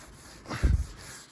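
A brush scrubs moss out of caravan window seals in a single short, close scraping stroke in an otherwise quiet moment.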